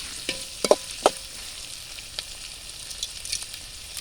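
Onions frying with tomato in a pan being stirred, a soft steady sizzle broken by a few sharp scrapes and taps of the spoon against the pan, close and fairly quiet, with no talking.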